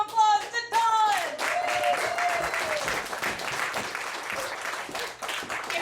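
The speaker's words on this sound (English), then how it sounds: "let's give a warm round of applause to Dawn." Warm applause from an audience at a PowerPoint karaoke night, with dense, loud clapping throughout. Voices call out over it at the start.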